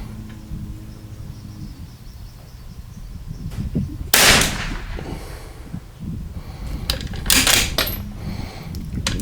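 A single loud rifle report from a Bergara B-14R firing long range match ammunition, a sharp broadband crack followed by a brief decaying echo, with later clattering handling noises over a steady outdoor background.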